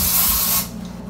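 A short, loud hiss of an aerosol fart spray can, about half a second long, then a quieter room tone.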